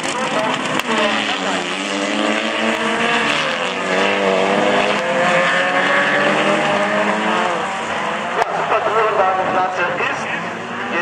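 Autocross race cars, including a VW Golf, driving at an amateur event: a continuous loud engine roar with shifting pitch throughout, while a commentator talks over it.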